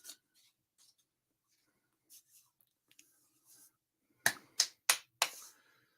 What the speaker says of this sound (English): I'll give Yahusha or Yahuwah a hand clap here